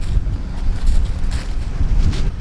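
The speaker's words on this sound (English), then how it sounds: "We're getting windy out here." Strong wind buffeting outdoors on a snowy, bitterly cold day near a house under construction, a steady low roaring rush with gusty swells throughout, no voices.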